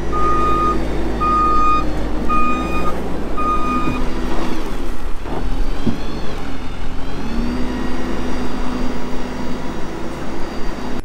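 A loader's reversing alarm beeps in a steady repeating pattern over a loud diesel engine rumble while it loads manure into a spreader on a farm; the beeping stops partway and the engine keeps running.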